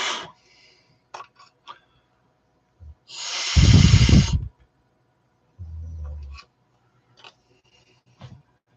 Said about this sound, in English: You can hear the dog snoring right back there.